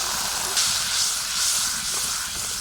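Water poured into a hot pan of frying spices gives a loud, steady hiss and steam sizzle that runs unbroken and close throughout, with no voices over it.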